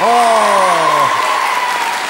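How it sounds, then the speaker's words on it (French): Loud studio audience applause on a French television game show, a dense steady wash of clapping with a voice trailing off at the start, fading slightly toward the end. "Je vous demande un tonnerre d'applaudissements pour la famille de la Croix."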